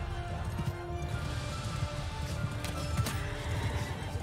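Horses clip-clop and whinny amid a battle in the video game Mount & Blade 2 Bannerlord, a steady dense din with hoofbeats and neighs rising over a low rumble and a few sharp crashes.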